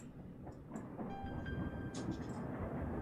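A train runs along the track in the Rail Route game, a steady low rumble with a few faint clicks and a thin squeal, moderately quiet and with no voice over it.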